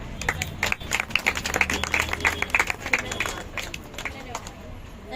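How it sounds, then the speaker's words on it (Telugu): People clap in a burst of scattered, uneven applause at a church Christmas celebration, with voices talking and murmuring throughout. "చప్పట్లు కొట్టండి."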